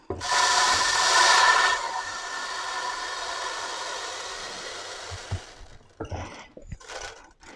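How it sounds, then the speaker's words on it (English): A loud, harsh Ninja blender roar with gritty grinding of dry rice, strongest at the start, then continuing steadily before cutting out into a few scattered knocks and rattles. "Let's see how powerful is our Ninja blender."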